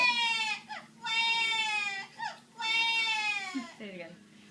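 A talking parrot mimics a crying baby with three long, wailing cries, each separated by a short catch of breath, loud and close to the microphone.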